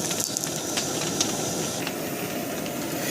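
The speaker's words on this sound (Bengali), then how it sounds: "তো এবার আমরা চাটুইয়ের উপরে দিয়ে দেবো।" A thick paratha sizzles on a hot tawa griddle, a steady close hiss of frying with a few small crackles and pops and no voices.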